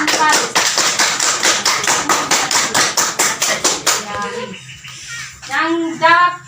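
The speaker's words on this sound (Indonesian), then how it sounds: "tepuk tangan untuk Angel dan Faris." Students in a classroom clap in a burst of applause for two classmates, a steady run of sharp claps that fades out, followed by a voice speaking and a short laugh.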